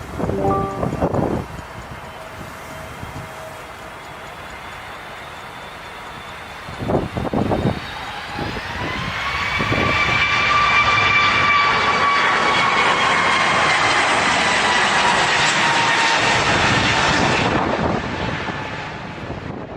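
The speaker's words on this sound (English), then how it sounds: "This Airbus A320neo struggled against strong winds while landing at Madeira Airport." An Airbus A320neo lands at Madeira Airport in strong winds, its jet engine roar swelling loud and steady through the middle and later part, mixed with heavy gusty wind buffeting the microphone.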